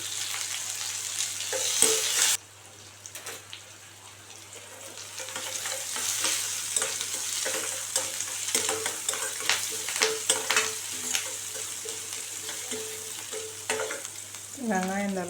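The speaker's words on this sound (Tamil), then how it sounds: "ஒரு கடாய் எடுத்து வச்சு அதில் ஆயில் சேர்த்துட்டு கடுகு, ஜீரகம், உளுத்தம்பருப்பு எல்லாம் போட்டு பொரிஞ்ச உடனே ஒரு வெங்காயம் அரிஞ்சு வச்சுருக்கேன், அதையும் சேர்த்து" Chopped onion sautéing in hot oil with popped mustard seeds, cumin and urad dal, a steady close sizzle broken by a thump and repeated scraping stirs, with no talking.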